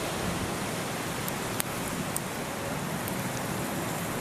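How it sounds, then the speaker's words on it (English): Small hail falls outdoors on Shooters Hill in May, making a faint, even, steady patter with a few sharp little ticks scattered through it. "it's hard to tell whether it's snow or it's just the small hail"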